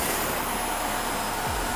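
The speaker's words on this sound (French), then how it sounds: "on va tout de suite, pas le vider à la main, parce que c'est la station qui va le vider automatiquement" A Yeedi Vac 2 Pro docking station automatically empties the robot vacuum's dustbin with a loud, steady whooshing suction roar that holds throughout, its pitch dipping briefly near the end.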